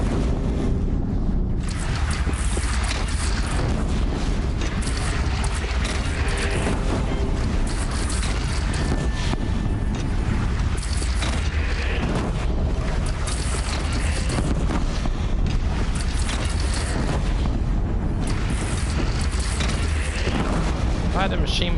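Continuous heavy rumbling booms from mounted cannon fire in the action game Horizon Zero Dawn, loud and dense throughout with no clear gaps, no voices.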